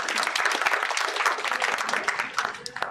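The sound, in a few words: audience applause for the class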